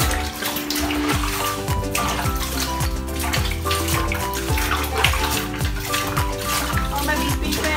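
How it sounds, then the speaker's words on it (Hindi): A banana is washed by hand in a basin of water, with continuous sloshing, splashing and running-water sounds that carry on steadily close by. "Normal wash the banana."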